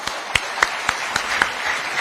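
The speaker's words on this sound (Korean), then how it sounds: "정말 귀한 말씀 전해주신 우리 박근혜 대통령님께 다시 한 번 더 뜨거운 박수 보내주시기 바랍니다." An audience at a Korean political rally for former president Park Geun-hye breaks into applause: a dense wash of clapping with a few sharper claps standing out, steady and fairly close, with no talk over it.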